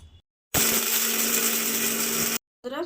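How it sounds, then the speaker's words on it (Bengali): Mixer grinder whirs loudly for about two seconds as it dry-grinds fenugreek seeds and garlic with no water, starting and stopping abruptly, with short quiet gaps before and after. "এবার এটাকে আমি একটু শুকনো ঘুরিয়ে নেব জল দেব না মিক্সিতে একটু ঘুরিয়ে নেব"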